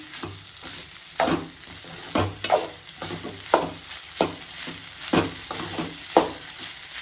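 Beans fry in a pan with a constant sizzle while a spoon stirs them in a steady, repeated rhythm of scrapes roughly once a second, close and clear.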